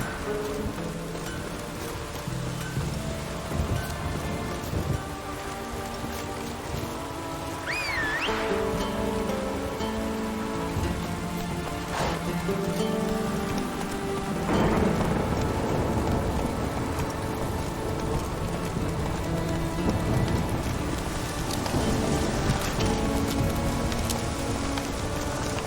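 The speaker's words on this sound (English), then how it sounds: "The storm, damn it." Steady, heavy rain from a storm in The Witcher 3 video game hisses continuously throughout, with game music underneath; no distinct thunderclap stands out.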